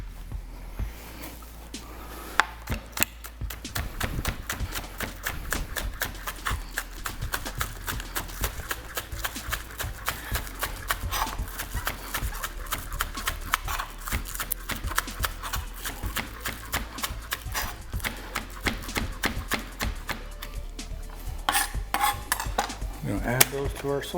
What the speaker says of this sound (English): We're gonna go ahead and cut up some of our green onions.